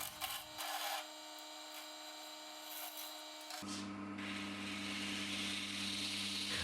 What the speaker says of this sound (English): Time to part the piece off and flatten the block again.